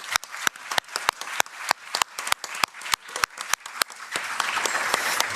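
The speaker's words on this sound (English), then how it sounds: "So a big hand of applause to everyone who has made this possible." An audience bursts into applause at a community Anti-Poverty Day event, with sharp individual claps standing out above a dense, steady wash of clapping that grows fuller toward the end.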